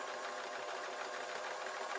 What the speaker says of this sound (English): So I'm sewing over these wool bits.